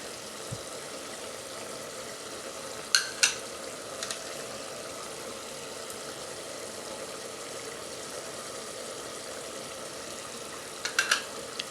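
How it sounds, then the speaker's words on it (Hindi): Chicken pieces with spices and garlic paste frying in a pot, a steady broadband sizzle throughout with a few clinks of a utensil stirring, and no talking. "चिकन और स्पाइसेस हमारे हो गए हैं अच्छी तरह से फ्राई।"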